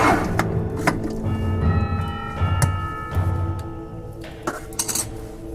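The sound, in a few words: canned pumpkin added to mixing bowl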